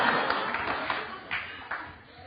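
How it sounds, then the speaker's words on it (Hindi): A television courtroom-show studio audience applauds, a dense wash of clapping with a few sharper bursts standing out, moderately loud and continuous for a couple of seconds. "कितनी तालियां पड़ी देखिए।"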